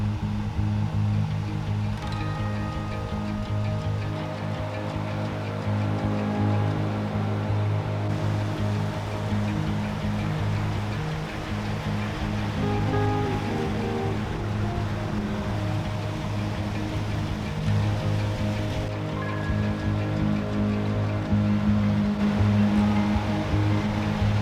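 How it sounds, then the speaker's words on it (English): Flash floodwater rushes down a road like rapids, a loud, continuous broadband roar of churning water heard from nearby, with no speech. "So it's literally making like rapids down that way, so definitely a no-go to drive."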